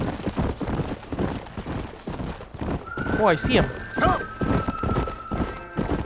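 Horses galloping in Red Dead Redemption: steady, close hoofbeats drumming rhythmically, with a loud whinny partway through, while someone talks over it.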